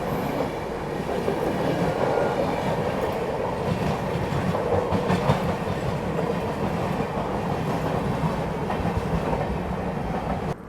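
Swatantrata Senani Express passenger train rolling at speed toward New Delhi, a steady loud rumble with rhythmic clickety-clack of wheels over rail joints, continuous and close throughout without pauses.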